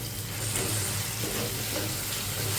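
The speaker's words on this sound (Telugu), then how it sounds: "ఇలా ఆనియన్స్ ఫ్రై అవుతున్నప్పుడు ఒక స్పూన్ అల్లం వెల్లుల్లి పేస్ట్ మంచిగా పచ్చివాసన పోయేలాగా ఫ్రై చేసుకోవాలి." Onions with a spoonful of ginger-garlic paste frying in a pan for cauliflower curry, a steady close sizzle that holds at an even level throughout with no talking.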